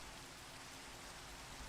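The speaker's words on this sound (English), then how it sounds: "The rain just sounds so much better under the water," Steady, muffled rain heard from beneath the water surface in a video game's ocean area, a soft continuous wash of noise with no voices over it.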